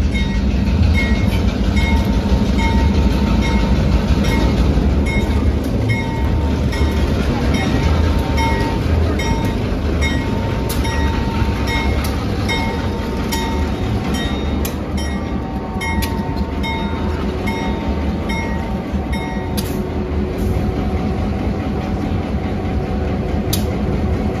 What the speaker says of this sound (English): Said it was a passenger train.